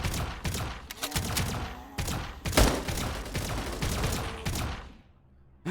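Rapid bursts of AK rifle fire in the VRChat video game, several loud automatic volleys separated by short gaps, dense and close, ending in near quiet.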